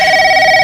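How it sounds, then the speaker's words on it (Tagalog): A telephone rings in a Filipino family home, a steady electronic trill held without a break, loud and close with nothing else over it. "Nagre-ring yung telepono natin."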